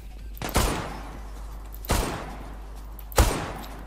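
Three loud, sharp Desert Eagle pistol shots from the video game Zula, spaced about one and a half seconds apart, each with a short decaying tail over a steady low background hum.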